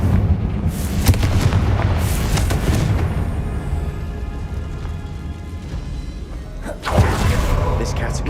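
A Confringo fire spell from Hogwarts Legacy, a game set in dark catacombs, bursts in booming blasts: a heavy rumbling boom early on, then a second deep blast near the end, with a character's voice in between.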